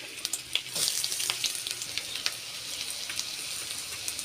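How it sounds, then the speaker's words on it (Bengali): Chopped onion fries in oil with ground garlic and dried chilli, a close, crackling sizzle that starts with a few sharp pops and clatters, then settles into a softer, steady hiss. "বেটে নিয়ে তেল দিয়ে দিলাম, এর মধ্যে পেঁয়াজ কুচিয়ে দেবো।"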